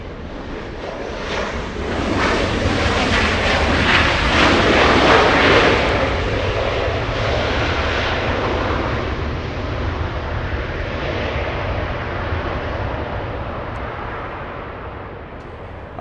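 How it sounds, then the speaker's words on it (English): A Delta Boeing 737-800 Next Generation jet arriving at LAX, a loud sustained engine roar that swells to a peak and then slowly fades, with some wind rumble on the microphone and no voices. "Delta 2253 flying in from Vegas. 41 minutes of flight time. 737-800. Next generation."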